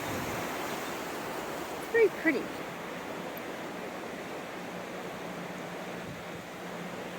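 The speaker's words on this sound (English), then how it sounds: "Crossing the river." A small river flows beneath a footbridge hung with potted geranium baskets, giving a steady, even rush of water throughout, while a voice speaks briefly near the start.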